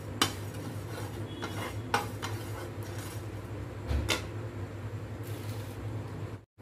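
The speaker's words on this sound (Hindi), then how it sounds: "अब हम भुनेंगे जीरा" Cumin seeds being stirred and roasted in a pan, with a spoon or spatula scraping and clinking against the metal in a few sharp strikes over a steady low sizzle, close up and without talk.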